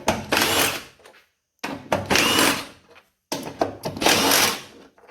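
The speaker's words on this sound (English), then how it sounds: "we're going to go ahead and remove the three 10mm bolts right here in the front" A power tool spins out 10mm bolts at the front of a 2000 Chevrolet S10 during radiator replacement, three loud whirring bursts of about a second each with short silent gaps between, close up.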